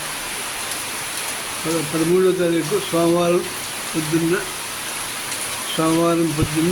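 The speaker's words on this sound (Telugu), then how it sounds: "7:30కి ఏలూరులో భారీ వర్షం, క్లౌడ్ బరస్ట్" Heavy morning cloudburst rain over Eluru streets at a residency falls as a constant, even hiss, with someone speaking over it in short bursts.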